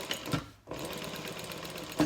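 A sewing machine top-stitches down the vinyl side of a tote bag, a close continuous mechanical hum broken by a brief pause before the motor resumes.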